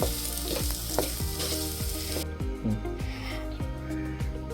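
Milky mushroom roast is stirred in a pan: a loud, dense sizzle with a rhythmic run of spatula scrapes and taps against the pan, close up.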